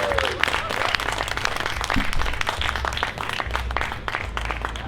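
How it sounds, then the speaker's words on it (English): Outdoor festival storytelling stage audience at the Oregon Country Fair applauding: dense, steady clapping from a crowd, fairly loud and sustained, with scattered cheers mixed in. "let's keep those applause going"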